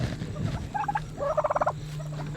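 Farmyard turkeys gobble in two short bursts, the second a rapid, rattling run of notes, fairly close over a low steady hum outdoors.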